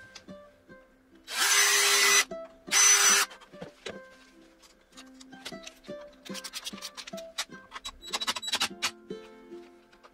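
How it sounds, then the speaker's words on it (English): Two short, loud bursts of a power drill drilling screw holes for a uPVC hinge, then quieter clicks, taps and rattling as parts are moved about. "so I'm going to have to drill two new ones"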